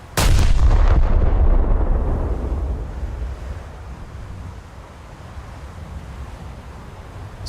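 A heavy naval gun salvo in World of Warships roars out loud and close at the start, then rumbles away into a long low boom under wind-like noise, with a faint second report at the end; no one speaks.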